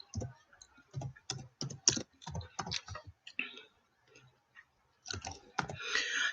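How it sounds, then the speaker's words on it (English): Rapid clicking of typing on a computer keyboard, a quick uneven run of keystrokes with short pauses, close and fairly quiet, a few faint sounds near the end. "Give me 1 second, I'll type in her name."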